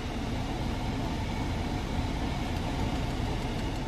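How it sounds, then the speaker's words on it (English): Loud air conditioning runs inside a compact sports SUV, a steady, dense whooshing roar that holds evenly throughout with no voices. "This AC is loud."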